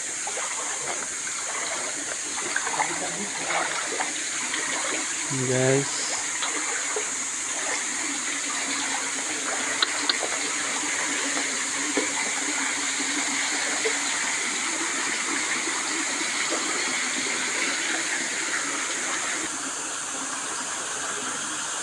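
Steady broadband rush of water flowing in a stream within a forest reserve ecopark, continuous and moderately loud, with a brief voice speaking over it once.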